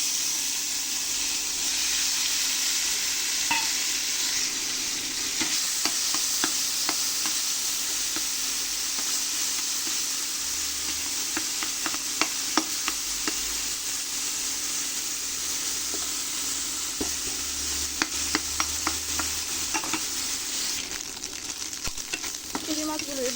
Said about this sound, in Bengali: কুলি মাছগুলো ভেজে নেব।